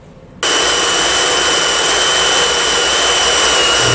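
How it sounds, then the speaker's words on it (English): A power drill with a 3/8 bit bores out a frame rivet on a 2019 Ram 3500 during hitch receiver setup, starting abruptly and holding a loud, steady high whine with a grinding edge. "just starting at the center of the rivet, just drill right on through"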